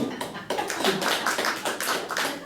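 A small church congregation claps briefly in a short burst of fairly quiet, close hand claps with uneven rhythm.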